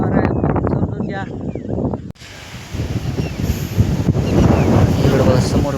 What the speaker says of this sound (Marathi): वारं पण सुटलं बघा, आवाज येत नसेल. वारा आहे समजून घ्या.